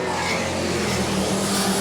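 Race cars roar down the front straightaway of a short oval track during a family fun night race at New Smyrna, a loud, continuous engine drone from a close pack with no talk over it.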